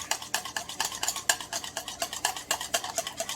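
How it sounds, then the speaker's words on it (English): Egg whites and yolk whisked together in a bowl, a quick, steady run of close scraping strokes about four per second, with no voices. "whisk them together."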